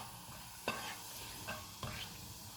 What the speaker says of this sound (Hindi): एक टीस्पून ज़ीरा डालेंगे और 30 सेकंड तक फ्राई करेंगे।